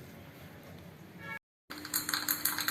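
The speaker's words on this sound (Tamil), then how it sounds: "ஒரு ஸ்பூன் கடுகு போடுறேன் வெடிக்கட்டும்" Mustard seeds crackle and spit in hot coconut oil in a ladle, tempering for a mango-leaf kuzhambu: a dense run of sharp pops after a brief silence.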